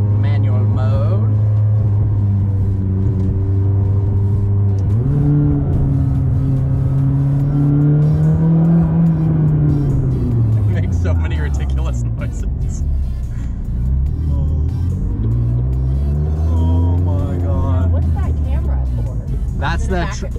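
A McLaren 600LT engine revving in manual mode, its pitch climbing, holding and falling away in swells, close and fairly loud, with a voice talking over it.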